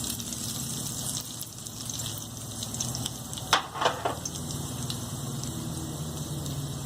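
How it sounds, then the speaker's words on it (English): Cumin seeds drop into heated cooking oil for a simple chickpea curry, giving a steady close sizzle and crackle with a brief louder burst of spitting partway through. "Our oil is heated now. Now we will add cumin seeds."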